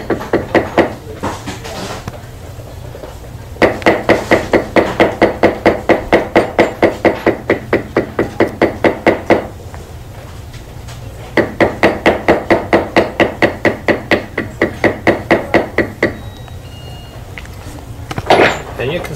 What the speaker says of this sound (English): You can re-bevel with a larger beveling tool.